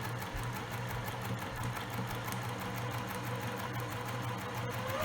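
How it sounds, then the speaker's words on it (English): A sewing machine back stitching and then running a steady seam down the fabric of a handmade ring bag, its motor droning continuously and loudly with a fast mechanical hum throughout. "I'm going to start out, back stitch, and stitch all the way down."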